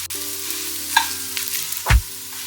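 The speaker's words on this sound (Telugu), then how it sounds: "దీన్ని మనం కూరంతా కలిసేలాగా బాగా మిక్స్ చేసుకోవాలి" Spiced okra fry with garlic chili powder being stirred in a pan, a steady sizzle under scraping with a louder spoon knock near the end.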